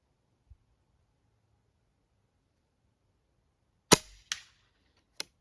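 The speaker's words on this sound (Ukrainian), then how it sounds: "Звуки влучання трошки відрізняються, може там між дошок воно влучає" Air rifle pellets strike a wooden target at 50 metres, landing as a few sharp, distant smacks spaced apart in otherwise near silence, the first a faint tap and later ones crisp snapping hits.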